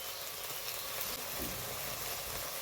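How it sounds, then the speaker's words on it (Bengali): Ground spices such as chilli and cumin powder sizzle steadily in hot oil in a pan for a Bengali sola kochu ghonto curry, a continuous close frying hiss with faint stirring underneath. "এখন এই মশলাগুলোকে আমি একটু ভালোভাবে কষিয়ে নেব।"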